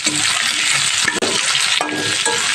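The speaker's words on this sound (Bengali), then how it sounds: "পেঁয়াজটা একটু ভাজা করে নেবো হালকা করে" Sliced onions sizzle steadily in a pan for a tengra fish curry, a loud continuous frying hiss broken by stirring scrapes and one brief knock of the utensil.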